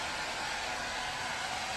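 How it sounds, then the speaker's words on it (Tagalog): A hair blow dryer runs steadily and close by, a continuous loud airy whoosh that holds unchanged from start to finish with no voices over it. "Nagbo-blower sila."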